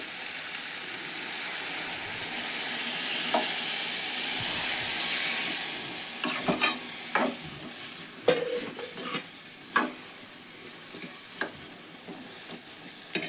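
Water poured into a sizzling tempering in a pan, a hissing burst of steam that settles as a spoon stirs and scrapes the pan with repeated sharp clinks toward the end, close and clear with no talk.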